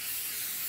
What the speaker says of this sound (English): I start with Pam cooking spray